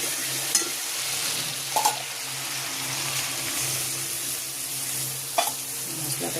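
Spice paste for a Bengali koi fish curry sizzling in hot oil, a continuous steady fry hiss with occasional clinks and scrapes of a spoon against the pan, no talking.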